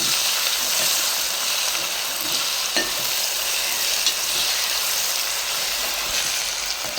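Ginger garlic paste fries in a pan for mutton curry, giving a continuous close sizzle with occasional stirring scrapes and faint clicks throughout.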